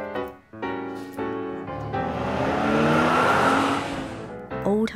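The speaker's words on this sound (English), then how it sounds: "Electric delivery car." Electric delivery car sound in a toy vehicle video for kids, a rising whooshing vehicle pass that swells loud in the middle and fades, with a voice speaking briefly before and after.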